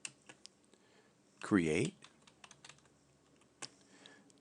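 Typing on a computer keyboard while a conda command is entered to set up a new Anaconda virtual environment: scattered soft key clicks in short bursts, close and quiet, with one brief spoken word partway through.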